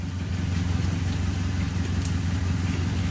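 A Suzuki Carry 1.0 engine, refitted with injection-type ignition coils, runs steadily at idle nearby, its low rhythmic thrum holding even throughout with no talk over it.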